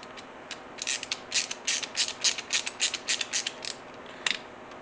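A screw being snugged down on a shoulder rig strap, a close run of quick ratcheting clicks in steady rhythm, faint and alone without talking.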